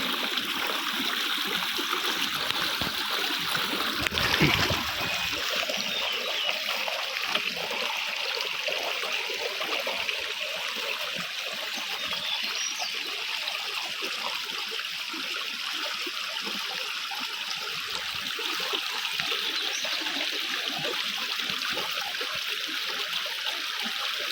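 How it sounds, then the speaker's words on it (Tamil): A natural hillside stream pours steadily nearby, a dense continuous rush and gurgle of water that stays even throughout with no voices over it. "இயற்கையாக வர தண்ணி தான்."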